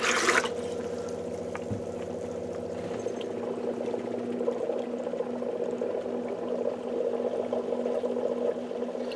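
Water runs steadily out of an ITEHIL RO water purifier filter as it is drained of water, a continuous trickling flow with a constant low hum beneath it and a brief click near the start.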